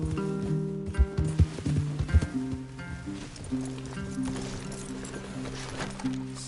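Hooves clop on soft ground among rustling in the video game Red Dead Redemption 2, with a few heavier thuds early on, set against a steady low musical drone.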